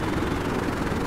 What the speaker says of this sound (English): Alright, Sam, can I shoot the pilot and take the helicopter?